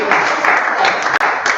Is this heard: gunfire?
no